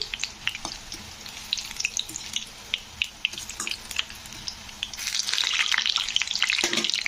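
Helencha greens fritters frying in oil, a close, crackling bubble with scattered pops and stirring clicks, growing into a louder, denser sizzle toward the end.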